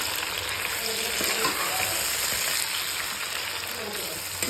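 Tomatoes frying with onions in oil for chana masala, a loud, dense, steady sizzle close by with faint stirring scrapes underneath.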